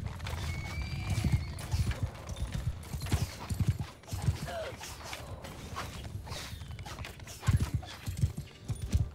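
Horse hooves clip-clop in Mount & Blade II Bannerlord, a steady run of close, moderately loud footfalls with an occasional whinny and a faint creak of gear mixed in.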